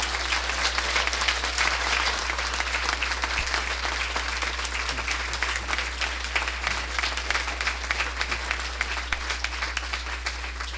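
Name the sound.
audience applause welcoming Dean David Hempton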